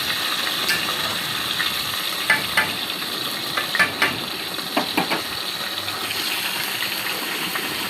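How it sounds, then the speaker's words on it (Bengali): Rohu fish frying in a pan beside a simmering curry makes a continuous, even hiss of hot oil, dotted with small clicks and ticks from the cookware. "এক পাশে রুই মাছ ভাজা চলছে আর এক পাশে আমার তরকারি চলছে"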